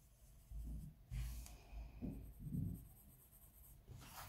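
Colorsoft colored pencil shading on paper, giving quiet, scratchy strokes in short bursts with pauses between them, close and faint.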